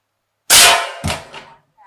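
A .30 caliber AEA Challenger Pro air rifle fires a slug into 16 gauge steel plate, giving one loud, sharp crack, then a metallic ring and a fainter second clang as it decays, close by and with no talking.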